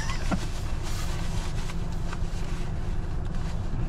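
A steady, low rumble fills the cabin of an idling Factory Five Type 65 with the air conditioning blowing, a constant hum and airy hiss with a few faint clicks.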